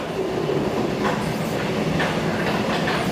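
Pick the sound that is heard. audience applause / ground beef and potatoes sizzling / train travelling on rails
train travelling on rails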